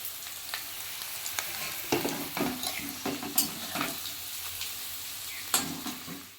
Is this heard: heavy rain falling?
no